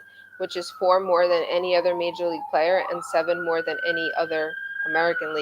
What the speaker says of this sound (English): Sorry if you can hear the sirens going by me on the BQE.